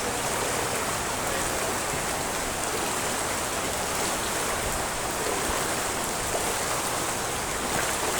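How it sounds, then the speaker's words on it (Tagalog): Heavy typhoon rain pours down steadily during Typhoon Carina, its dense, hissing roar unbroken and close, without any voices over it. "Grabe, lumalakas na yung ulan."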